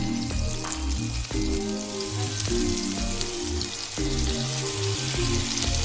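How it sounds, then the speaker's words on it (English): Beyond Beef slider patties fry in hot oil in a pan with a steady, crackling sizzle that runs throughout, over a repeating low musical tune. "We are ready to start placing our burgers in here."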